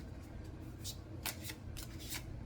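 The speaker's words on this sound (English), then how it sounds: "Okay, so you saw me shuffle that." Tarot cards shuffled by hand during a reading, several soft crisp riffling bursts close up over a low background hum.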